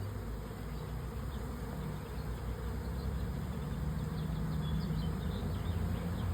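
A honeybee swarm hovers and flies around a box outdoors, giving a steady, dense buzzing drone that holds at an even level throughout, with no voices.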